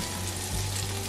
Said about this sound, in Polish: Cebulka smażona zawsze pięknie pachnie